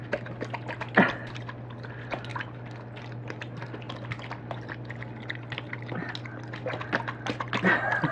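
A dog bobbing its muzzle in a water bowl for floating pieces of dog food, making faint, scattered splashes and drips, with one sharper slosh, over a steady low hum.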